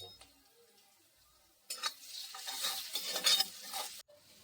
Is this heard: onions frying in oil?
yes